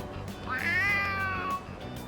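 A stray cat in Persona 3 Reload lets out a single drawn-out meow, clear and fairly loud, that rises and then falls over about a second against a quiet game background.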